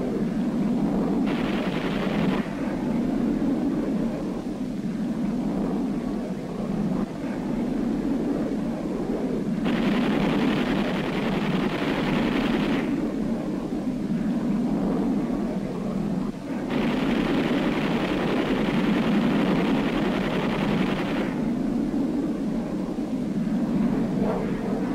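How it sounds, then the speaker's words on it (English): Jet aircraft fly over Korea, their engines a continuous, loud broadband roar that swells and eases in long surges, steady throughout with no voices. "Mission completed, the jets peel off and head for home."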